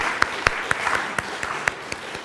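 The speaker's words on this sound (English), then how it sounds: "Can we give them a round of applause?" Sparse applause for stewardship team volunteers at a congregational meeting, a handful of separate claps spaced irregularly over a low room murmur, thin and moderately quiet.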